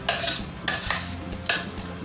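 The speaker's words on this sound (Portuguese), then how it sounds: "A gente vai mexendo pra misturar os temperos, né?" Sarapatel is stirred in a pan with spices, giving three scraping stirring strokes over a low sizzle, close and with no talk.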